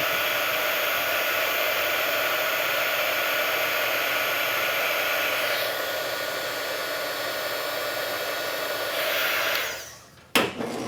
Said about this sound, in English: to heat shrink, I'm using a Craft hot air gun